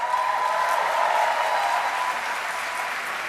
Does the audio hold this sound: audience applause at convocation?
yes